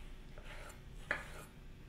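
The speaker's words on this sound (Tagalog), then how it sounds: "Hinog na kamatis yung gamit ko, hinihiwa ko lang into wedges." A knife slices ripe tomatoes into wedges on a cutting board, making faint, soft cuts with one sharper tap of the blade against the board, quiet and close.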